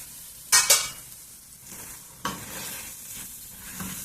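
Broccoli and egg curry being stirred in a pan, with two sharp scraping strokes early on and another a moment later over a soft, steady frying sizzle, heard alone without talk.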